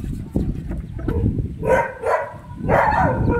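A dog barks a few times nearby, loud and sharp, over a low rumbling background.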